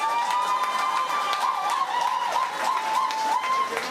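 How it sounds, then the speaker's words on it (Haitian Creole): An audience in a hall applauds loudly in a sustained, dense wash of clapping, mixed with crowd cheering and wavering whistles throughout. "tout le monde dans la salle applaudit très très fort Zinglin"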